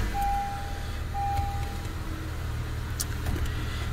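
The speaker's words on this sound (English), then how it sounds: "you start the car." A 2015 Honda CR-V AWD engine idles steadily with a low rumble after a CVT fluid change, and a brief electronic tone beeps near the start.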